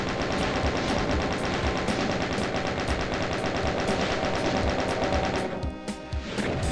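Dense, rapid gunfire from a Doom shotgun hammers on without pause, loud and close, then thins into scattered blasts near the end.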